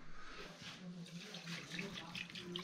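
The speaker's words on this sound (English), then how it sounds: "Pouring water." Water poured out at a Buddhist monastery in Marpha, Mustang, Nepal, a soft continuous trickle and splash running steadily throughout, with people talking quietly nearby.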